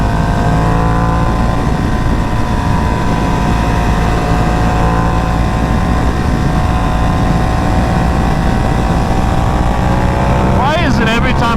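A Ducati Panigale V2 special edition sport motorcycle ridden on a wet, cold road up Suncrest, its engine holding a steady, loud drone with wind rush and a brief rising rev near the end.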